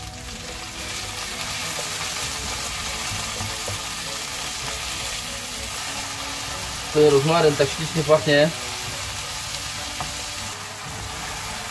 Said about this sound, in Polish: Smażymy dosłownie parę minutek.